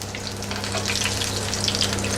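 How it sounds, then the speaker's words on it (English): Corned beef fritters fry in hot oil, giving a steady close sizzle with scattered crackles and spits across the whole stretch, with no talk over it. "be very careful while you're flipping them, because the oil will spit up at you"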